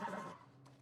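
Brief horse whinny from The Last of Us Part I, a short close cry that trails off quickly into a low background hum.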